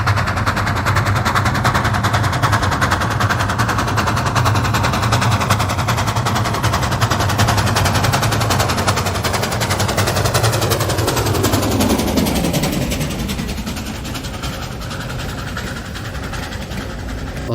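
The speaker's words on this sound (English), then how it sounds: "Fire coming from smoke of a steam engine as it climbing gradient with full power." Indian Railways steam locomotive WDOR-20 climbs a gradient at full power, a loud, rapid, continuous chuffing exhaust with heavy engine rumble that eases and drops in pitch near the end.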